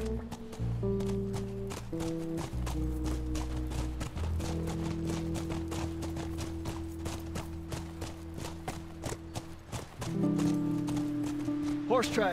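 Horse hooves clip-clopping in The Last of Us, a steady run of rapid hoofbeats under sustained musical tones and spoken dialogue.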